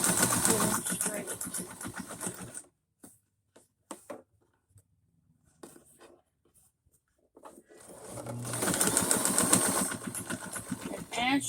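A sewing machine stitches a pillow in two close, steady whirring runs, separated by a quiet pause with small handling noises.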